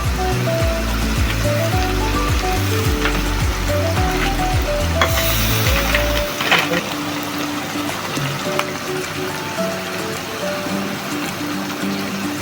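Spice paste of ground mace, nutmeg and garam masala sizzles and fries in a pan for beef liver, with steady crackling and stirring scrapes throughout, loudest in the first half, while a voice talks over it.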